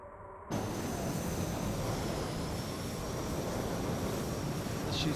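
Jet engine of an F-14D Super Tomcat spooling up in MSFS2020, cutting in abruptly after near-silence and then holding a loud, steady broadband roar with a thin high whine over it.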